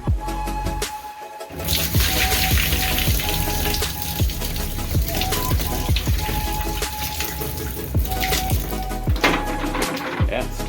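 Water from a Keystone KSTAD50B dehumidifier bucket pours and splashes continuously into a sink for several seconds, with a brief pause near the start, close and fairly loud.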